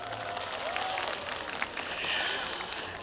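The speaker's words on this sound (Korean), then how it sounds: "다시 한 번 큰 박수 부탁드리겠습니다." Festival audience applauding after a dance crew's performance at a cherry blossom festival opening ceremony, steady moderate clapping throughout with crowd noise, heard from a distance.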